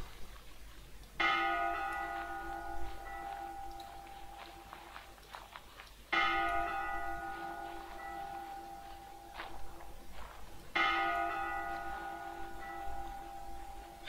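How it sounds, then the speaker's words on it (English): Bell in the horror game Layers of Fear 2 tolls three times, slow and evenly spaced, each strike ringing out and fading over several seconds above a low, dark ambient rumble with faint creaks. "this is the bell."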